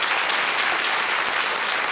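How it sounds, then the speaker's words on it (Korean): A large audience applauds at a university talk event, a thick, continuous roar of many hands clapping at once, steady and loud for the full two seconds. "큰 박수 부탁드립니다"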